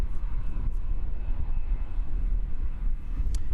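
An ATR turboprop airliner inbound from Hamilton to Christchurch Airport, heard as a steady, fairly distant low engine rumble and drone that holds evenly throughout without any talk.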